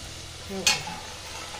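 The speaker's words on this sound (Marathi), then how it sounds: "आता बघा अशा तळायच्या करंज्या" Karanji pastries drop into hot oil to deep-fry, a short sharp crackle over a low steady bubbling, close and quiet, with no voice.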